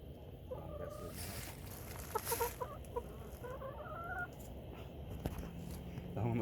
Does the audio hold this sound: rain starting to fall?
no